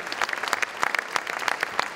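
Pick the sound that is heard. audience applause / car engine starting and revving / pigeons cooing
audience applause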